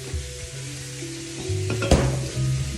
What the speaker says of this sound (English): you don't want your fire so hot that it starts popping and making a big mess